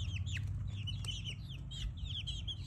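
Chickens clucking and chirping in a barn while being moved to a new brooder, several birds calling in quick overlapping bursts over a steady low rumble.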